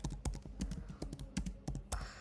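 Quick, uneven keystrokes on a computer keyboard typing a short chat message, a close run of clicky taps with small pauses and no talk.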